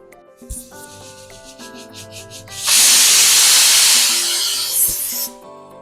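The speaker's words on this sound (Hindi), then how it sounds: "जब कुकर की विसल होती है ना, तो उससे जो स्टीम आती है" A loud, sustained hiss of steam bursts from a pressure cooker whistle while cooking khichdi, rising abruptly over quieter kitchen clatter and fading away afterward.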